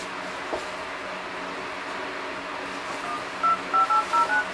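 Keypad dial tones sound on a KINGZONE K1 Turbo smartphone: a quick run of about five short beeps near the end, preceded by a faint light tap, over low room noise.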